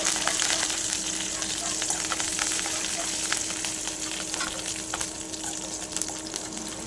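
Mustard seeds sizzle and crackle in hot oil for tomato chutney, a steady close frying hiss dotted with small pops throughout.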